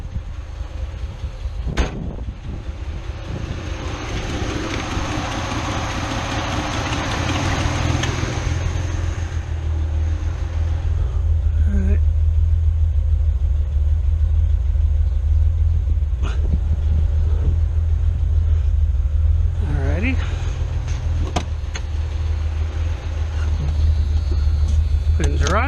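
A carbureted 1981–85 Ford Mustang engine idles close by, a steady low rumble that thickens partway through and holds to the end, with a few faint clicks and knocks on top.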